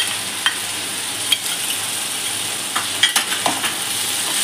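Yogurt being stirred into a frying tomato masala, with a steady sizzle and a few scattered clicks and scrapes of the spoon against the pan, close and moderately loud, no voices.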